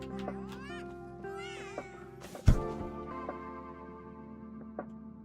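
A cat character in the video game Honkai: Star Rail meows several times over a steady game music bed, with a sharp thump partway through and softer mews trailing after.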